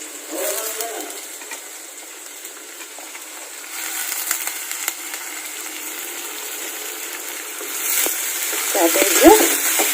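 Washed cabbage frying in a spiced tempering in a pan makes a steady, close sizzle with scraping stir sounds, growing louder toward the end, with no talking.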